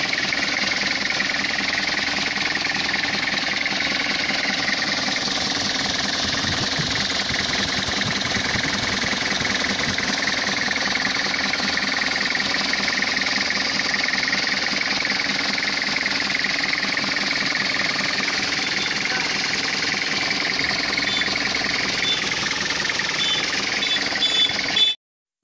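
A second-hand Toyota Hiace van's engine runs steadily with a dense, continuous mechanical drone and a slightly knocking rumble. It holds even and loud throughout, then cuts off abruptly at the end.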